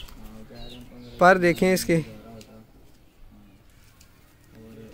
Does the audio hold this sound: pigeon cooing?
yes